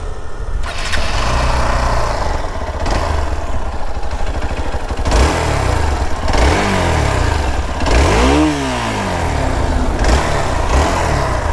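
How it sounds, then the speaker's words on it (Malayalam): A Hero XPulse 200 BS6 motorcycle fitted with a rally kit idles loudly up close, then its engine is blipped several times, each rev sweeping up and falling back, with the biggest rise near the end. "ഞാൻ ജസ്റ്റ് നിങ്ങൾക്ക് സൗണ്ട് കാര്യങ്ങളൊന്ന് കേൾപ്പിച്ചു തരാം വണ്ടിയുടെ"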